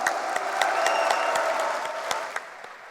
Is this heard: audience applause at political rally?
yes